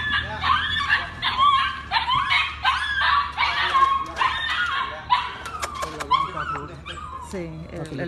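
Puppy rescued from a drug-users' site, giving rapid high yips, whimpers and short barks in quick bursts, fairly close, mixed with a voice talking and soothing it.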